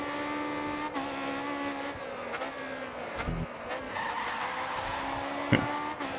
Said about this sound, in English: can hear the brakes from everyone behind me when I do those corners